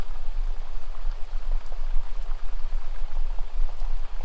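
Steady rain falls and patters on a surface, a dense continuous hiss with scattered droplet ticks, alone and without voices.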